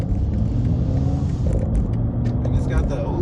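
Engine of a 2023 BMW M3 Competition while driving, a steady low rumble and whir from inside the cabin that continues throughout with a few brief higher-pitched clicks over it.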